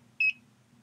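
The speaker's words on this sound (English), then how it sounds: "the USMAN will beep once, indicating a successful connection" A USMAN5 SmarTech digital manifold gives a single short, clear electronic beep on making its Bluetooth connection, alone over a faint low hum.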